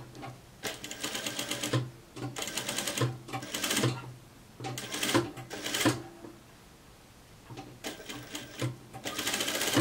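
A domestic sewing machine stitches a hem on a garment in bursts, its rapid mechanical whirring starting and stopping several times with short pauses between runs, close and with no talk.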